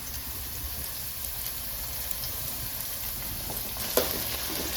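Small onions fry in hot oil for a fish curry with a constant, close sizzle and light stirring, broken by a single soft knock toward the end.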